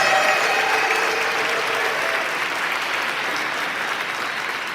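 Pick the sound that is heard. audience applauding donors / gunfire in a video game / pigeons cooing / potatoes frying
audience applauding donors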